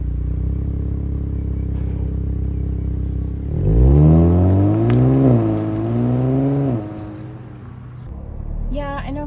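A 2024 Nissan Z engine revs up with a rising whine, holds a strong roar, then shifts quickly and drops off abruptly, leaving quieter background sound.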